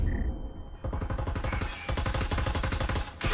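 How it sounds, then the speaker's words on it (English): Rapid gunfire in the VR shooter Breachers, with dense bursts of automatic shots cracking back and forth almost continuously, loud and close, with a brief pause midway before the volleys resume. "As shots are being traded left and right and left and right."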